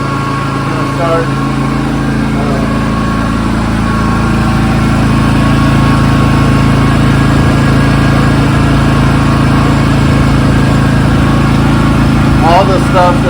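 A Champion portable generator engine runs steadily at close range after a hurricane, a constant loud drone with a fixed hum throughout, with faint voices and a few brief clinks over it.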